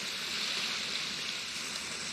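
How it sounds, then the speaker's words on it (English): A water effect in the video game Outward rushes as a steady, broadband wash like a stream or small waterfall, constant and fairly close, with no talk. "that sound effect of the water just kicked in"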